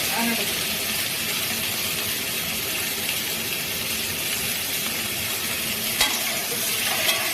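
Raw green plantain pieces fry in a pan as part of a hilsa fish dish, giving a steady, dense sizzle throughout with a couple of faint clinks near the end.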